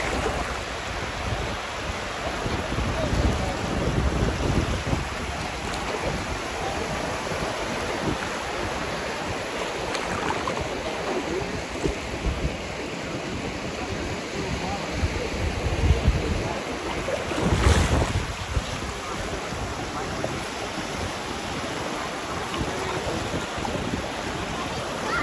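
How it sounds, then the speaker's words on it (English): Ocean surf at a beach, a continuous broad rushing wash of waves with wind noise, steady and fairly loud, with a brief surge partway through. "let you listen to the ocean."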